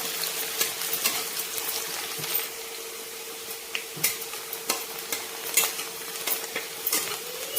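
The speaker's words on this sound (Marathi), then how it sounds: "फक्त एक मिनिटभर आपल्याला याच्यात परतून घ्यायचं आहे तेलामध्ये थोडासा आपल्याला हा कांदा नरम होऊ द्यायचा" Onion sautéing in oil gives a low, steady sizzle under frequent sharp clicks of a spoon stirring against the pan, close and moderately quiet, with no voices.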